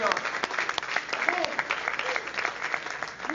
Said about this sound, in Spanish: ¿Alguien puede darle un aplauso más fuerte al Señor?